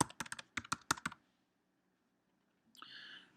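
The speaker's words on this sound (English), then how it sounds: "After you finish typing, hit enter on your keyboard" Quick bursts of keystrokes clatter on a Mac computer keyboard for about a second, close and crisp, followed by a pause and then a brief hissy noise.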